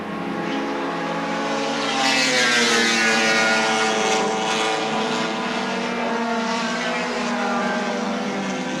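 Touring cars race through the back-straight kink at Surfers Paradise in 1981, a Holden driven by Brock chased closely by Johnson; harmonic engine howls rise and swell past nearby, loud and continuous, with no talk over them.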